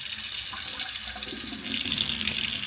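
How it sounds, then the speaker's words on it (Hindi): Water runs from a tap fed by an electric geyser, a steady, close, continuous hiss and gush with no voices. "जैसे अभी मैंने टैप ऑन किया है और रनिंग वाटर आ रहा है"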